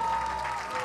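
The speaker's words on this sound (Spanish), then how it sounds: "Escuchen fuerte los aplausos." Audience applause at a quinceañera celebration, a steady continuous wash of clapping lasting under a second with a faint tone running beneath it.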